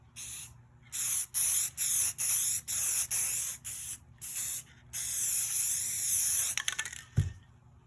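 A spray paint can hisses out paint for spray paint art in a run of about seven short bursts, then gives one longer continuous spray, loud and close, and ends with a brief clatter.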